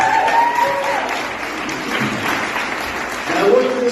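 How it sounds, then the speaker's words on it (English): A crowd applauds a speaker at a campaign event for the Texas Land Commissioner race, broad continuous clapping filling the room while a voice carries faintly underneath. "Give him a round of applause."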